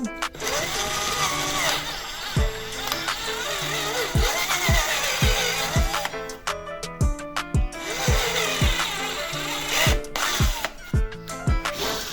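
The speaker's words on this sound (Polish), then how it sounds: "Wiercę sobie dziurę" A power drill bores a hole into wood for a stair gate latch, its whirring motor rising and falling in several close, loud bursts with short pauses and mechanical clatter between them.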